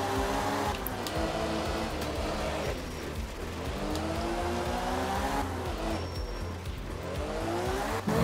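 Rally car engine from the Art of Rally video game roars steadily throughout, its revs climbing and dropping between gear changes, with occasional tire scrub, loud and continuous with no talk.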